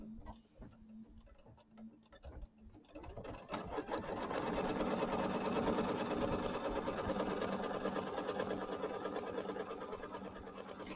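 An embroidery machine stitches a tack-down line on quilt-block fabric over batting. Scattered clicks come first, then a steady, loud, fast mechanical stitching hum that runs continuously for the rest of the clip.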